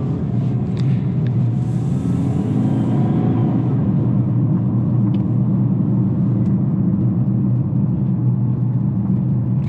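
A 2020 Toyota Corolla Hybrid coasts along the road, giving a steady, continuous low rumble of tyre and road noise inside the cabin with no engine surges, holding an even level throughout.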